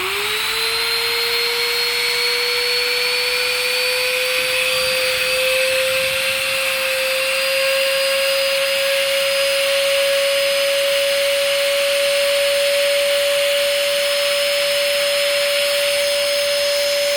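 An electric vacuum pump hums steadily as it draws air out of a plastic blanket storage bag, its motor tone climbing briefly at the start, then holding a constant whine alone for the full stretch.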